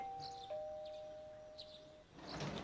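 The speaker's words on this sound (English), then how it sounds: "Doorbell's ringing. Someone's at the door." A doorbell chime in Persona 4 Golden rings with a soft sustained electronic tone that holds steadily for about two seconds, faint under a quiet background hiss before a brief rustle of game sounds.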